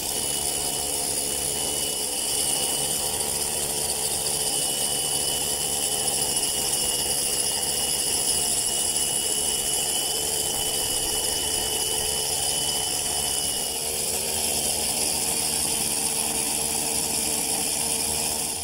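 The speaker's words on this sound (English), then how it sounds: "take this rotary hammer with a 1/2-inch masonry bit and drill a series of holes" A steady, loud mechanical hammering drone continues without pause, a rotary hammer with a half-inch masonry bit drilling holes in a boulder at close range, with no voices.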